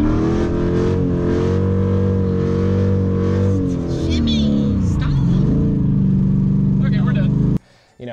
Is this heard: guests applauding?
no